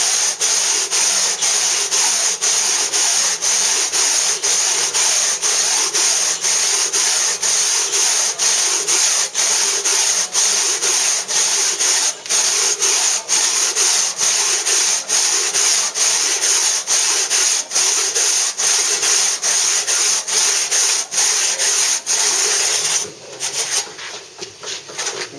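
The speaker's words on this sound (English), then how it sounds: "So as long as I saw nice and straight, be careful, don't cut inside the line" A hand saw cuts into a Bath stone moulding with a fast, steady back-and-forth rasp, loud and close, stroke after stroke without a break for over twenty seconds before slowing and stopping near the end.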